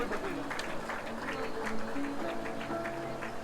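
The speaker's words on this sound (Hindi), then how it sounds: "तालियों की गड़गड़ाहट रुकनी नहीं चाहिए।" Applause from an audience at an award ceremony: continuous, dense clapping held at a steady level for the whole stretch, with faint voices and room sound mixed underneath.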